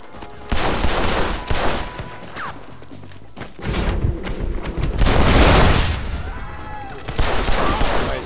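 Rifle fire in the video game Red Dead Redemption rings out in loud, repeated booming volleys, with overlapping shots and echoing blasts filling the scene almost continuously.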